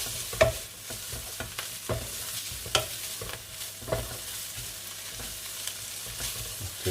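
Ham and onions frying in sesame oil in a pan, stirred with scraping utensil strokes over a soft continuous sizzle, close and fairly quiet.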